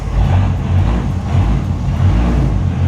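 Deep, steady engine rumble from the Deathwish Dodge Viper fitted with a new GCC triple disc clutch, pulling away smoothly in gear, loud and close with a low pulsing drone.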